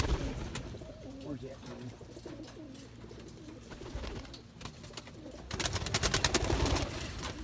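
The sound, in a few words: pigeons cooing in a loft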